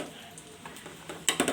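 Curry leaves dropped into hot oil over fried dal give a faint soft sizzle that flares into a few sharp crackling spits toward the end.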